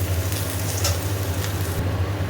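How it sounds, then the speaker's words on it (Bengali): Okra sizzling and frying in a pan with oil, a steady close crackle throughout with no talking, the hiss thinning briefly toward the end. "ঢ্যাঁড়সগুলো একটু ভাজা ভাজা হোক, তারপরে নুন দেবো, মশলা দেবো।"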